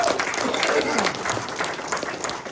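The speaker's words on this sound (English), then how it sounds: "Let's get these guys, these folks a round of applause." A comedy club audience claps and cheers for military veterans in the crowd, a dense, sustained wash of applause that stays fairly steady and loud throughout, with voices mixed in.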